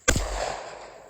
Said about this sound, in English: my boy finna shoot this 45